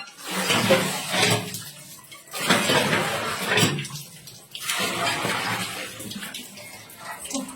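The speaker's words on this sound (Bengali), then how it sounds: "এই গরম জল করে আমি স্নান করতে এসেছি" Hot water splashing and pouring during a bath, coming in loud bursts separated by brief quieter pauses, with faint speech underneath.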